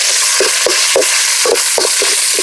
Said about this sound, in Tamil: இப்போ எண்ணெய் ஊற்றிக்கிறோம் வெங்காயம் சேர்த்துக்கலாம்